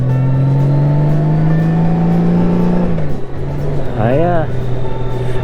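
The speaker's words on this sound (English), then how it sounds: "I am riding a 2018 Plus on the Goldwing for the moment." A 2018 Honda Goldwing touring motorcycle is ridden on the road, its engine holding a steady drone, then dropping in pitch as the rider eases off and winding back up. It sounds loud and close under continuous wind rush.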